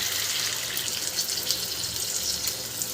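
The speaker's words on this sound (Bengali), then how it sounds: "এবার আমার কাছে রাখা ডাবের জলটা আমি এখানে অ্যাড করে দেবো" Coconut water being poured into chicken cooking in a pan, a steady close watery rush lasting throughout with no talk.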